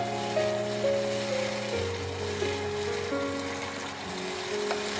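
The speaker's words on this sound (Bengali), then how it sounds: "দুধটা দিয়ে আমি একটু ভালো করে কষিয়ে নেব যাতে মশলাটা আরেকটু ভালো মতো কষানো হয়ে যায়" A spice masala sizzles steadily in a pan after milk is added for a Bengali kacha kolar jhol, with an even, close frying hiss throughout and faint steady tones in the background.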